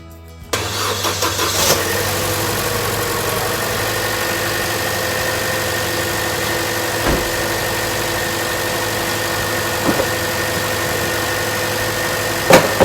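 A Chevy Cruze commuter-build engine runs at a steady idle after starting, with a continuous close mechanical hum and a few brief louder knocks. No one speaks.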